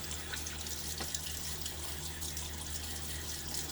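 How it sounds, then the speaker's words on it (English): Cool, hard tap water runs steadily from a bathroom sink faucet and splashes onto a face before a shave, a continuous close rushing and trickling with no voices. "Splash water on my face."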